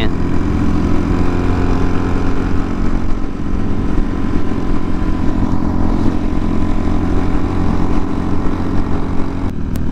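Several Harley-Davidson motorcycles rumble close by in San Diego, a steady, loud, low idling drone that holds unbroken throughout with no talk.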